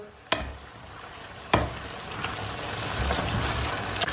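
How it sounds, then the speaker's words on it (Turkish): Spinach with eggs being stirred and sautéed in a pan over lowered heat, a steady soft sizzle and crackle with a couple of sharp clanks of a utensil against the pan, no talking. "Suyunu çekene kadar kavurma işlemine devam edeceğiz."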